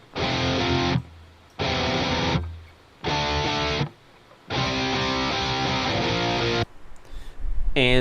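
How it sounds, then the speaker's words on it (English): Heavily distorted electric rhythm guitar chords play back in a mix session, chugging in thick blocks separated by short pauses with decaying tails, loud and bass-heavy, ending with a brief quieter scrape before another chord. "my rhythm guitars sound like this."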